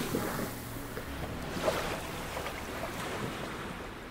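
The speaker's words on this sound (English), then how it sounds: "Elio collapses into the sand, feeling broken and defeated as he lets the waves crash into him." Surf washes steadily onto a sandy beach, a continuous close rush of breaking waves mixed with wind noise and no distinct pauses.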